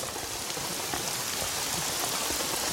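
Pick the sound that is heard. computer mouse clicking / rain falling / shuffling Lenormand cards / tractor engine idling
rain falling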